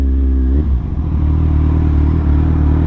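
A de-catted Kawasaki Z1000R with a Black Widow exhaust runs close by, a loud, deep, throbbing engine note that shifts pitch slightly early on, then settles into a steady idle.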